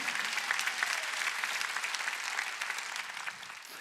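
A church congregation claps in worship, a sustained, moderately distant patter of many hands that thins slightly toward the end.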